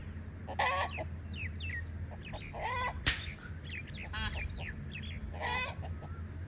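Roosters fighting cluck and squawk in agitated bursts, with a sharp thump partway through, over a steady low background hum.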